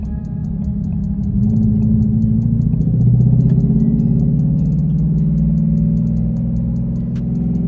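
A twin-turbo Mustang engine drones steadily from inside the car, the pitch rising as it accelerates, then holding a sustained loud rumble, with a faint regular ticking overhead.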